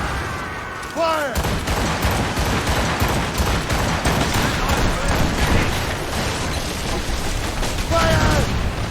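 A naval cannon volley thunders from a warship in Assassin's Creed Rogue, a dense run of booming shots rolling on continuously under shouted crew voices, with brief whistling streaks near the start and end.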